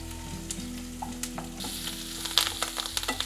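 Urad dal and sesame seeds sizzle in hot oil in a pan for a tempering, a continuous close frying hiss broken by sharp crackles and pops, with occasional stirring scrapes and no talk.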